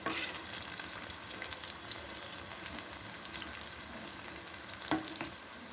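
Hot oil bubbles and crackles steadily around a batch of food frying on high heat, a dense close sizzle broken by occasional utensil clinks, one louder knock near the end.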